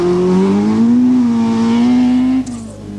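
A Vauxhall rally car drives hard along a stage of the 1982 Circuit of Ireland Rally, its engine droning loudly and close with rising pitch before cutting off sharply.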